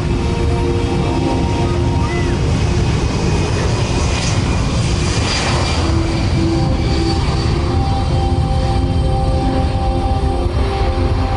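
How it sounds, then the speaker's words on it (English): A C-17 Globemaster III military transport jet rolls for takeoff at an air force base airshow, its engines producing a loud, steady, dense roar that holds throughout with no letup. "On the takeoff roll, the C-17 Globemaster 3."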